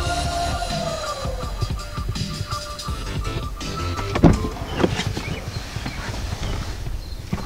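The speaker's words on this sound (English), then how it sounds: "The seat and steering wheel do move back to help with easier entry and exit." Electric motors whir as the power seat and steering wheel of a 2020 Acura RDX slide back, a soft mechanical hum inside the cabin with a few clicks and light thumps.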